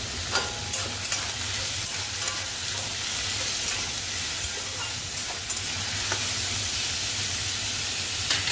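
Hot oil in a kadai crackles and spits as potatoes, onion and chillies fry, with a dense close sizzle and intermittent sharp stirring clicks, no voices.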